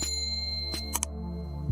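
Two quick bright dings of a notification bell chime, close and clean, ringing over a steady low background hum.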